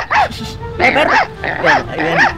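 An invisible cartoon dog barks and yips in several quick bursts, close and loud, with a whining, voice-like tone that could be a person imitating the dog.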